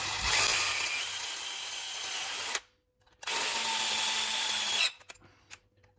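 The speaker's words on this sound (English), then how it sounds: "I will drill two bigger holes on the other side." A power drill bores holes into the heater channel of a 1955 VW Beetle oval during restoration, running in two steady, loud whining bursts separated by a short pause, then stopping with a few small clicks.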